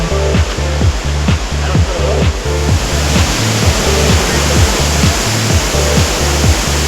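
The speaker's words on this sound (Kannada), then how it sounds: "ಈ ಫಾಲ್ಸ್ ನೇಮ್ ಬಂದ್ಬಿಟ್ಟು ಅಬ್ಬಿ ಫಾಲ್ಸ್." Abbey Falls in Madikeri, Coorg, pours in a loud, dense, continuous roar of falling water heard up close, with low rhythmic thumps underneath.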